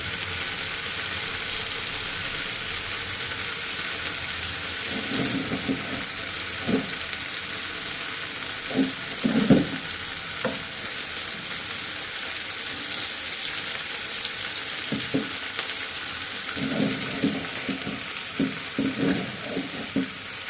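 Village pond fish fries in a pan with a constant loud sizzle, broken every few seconds by the clatter of a utensil turning the pieces.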